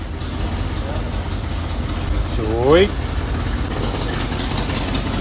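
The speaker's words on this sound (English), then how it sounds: "Oh, she fired right up." A square body 4x4 short box truck's engine idles steadily just after starting, a low continuous rumble close by, with someone speaking briefly over it partway through.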